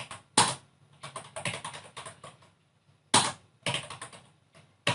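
A command typed on a computer keyboard during a Kali Linux 2020 USB persistence setup, bursts of quick close key clicks with short pauses between, loud and clear with no voices.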